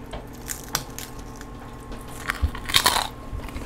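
Crunchy fried pig snout is bitten and chewed up close, with a sharp crunch near the start and a louder burst of crisp crackling bites toward the end over quiet mouth sounds.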